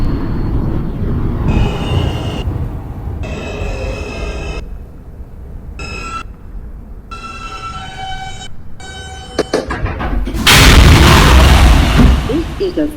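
An R160 J subway train on the New York line near Canal Street runs with a steady low rumble and rattle, punctuated by short tonal whines and chimes, ending in a louder surge of roaring noise.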